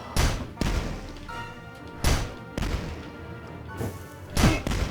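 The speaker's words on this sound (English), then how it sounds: "Rivet gun in this game is so sick. It's like basically the rocket launcher." Heavy booming shots from the rivet gun in the video game DUSK, a rocket-launcher-like weapon, firing about four times at a slow, uneven pace, each blast loud and punchy with a short rumbling tail.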